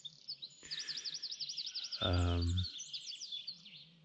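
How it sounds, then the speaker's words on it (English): Birds chirp and trill repeatedly at dawn, around 4 a.m., in quick, high phrases, with a short low buzzing sound breaking in midway; no talking. "And the birds are very loud"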